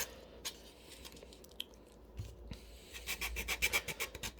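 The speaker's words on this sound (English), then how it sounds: "More sanding here, more sanding." Hand-sanding a 3D-printed 1/48 scale IAI Dagger model aircraft: close, soft rasping strokes, sparse at first and then a faster run of rhythmic scrubbing passes, with no talking.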